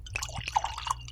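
Cereal beer pours into a glass with close, bubbly splashing and dripping over about a second, a steady liquid trickle with small plopping accents.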